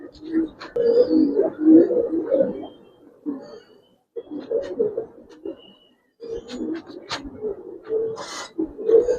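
Giribaz and coloring pigeons in a seller's loft coo in soft, repeated low bursts, nearly continuous with short pauses, mixed under men's conversation throughout.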